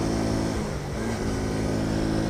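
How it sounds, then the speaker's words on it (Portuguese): A Shineray Jet+ 90cc motorcycle engine runs steadily, a dense continuous drone close by with no clear revs or pauses and no talking. "essa aqui é uma moto de 90 centímetros cúbicos, mas ela é registrada como uma cinquentinha."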